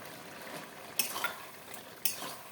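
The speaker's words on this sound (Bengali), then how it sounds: "একটু নাড়িয়ে চাড়িয়ে নামিয়ে নেব" A spoon stirs pumpkin-greens stem chorchori with fried eggplant and ground poppy seed in a pan, giving two sharp scraping clatters against the metal over a soft, faint sizzle.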